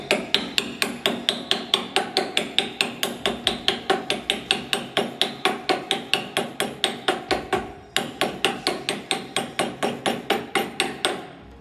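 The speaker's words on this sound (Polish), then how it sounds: "Może potraktujemy to młotkiem." Hard steel hammer blows strike a connecting rod bearing shell half-mounted in the rod, a fast, even run of loud ringing metallic hits, close and alone, with a short pause partway through.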